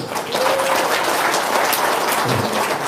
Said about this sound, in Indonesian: Tuh, tepuk tangan dulu.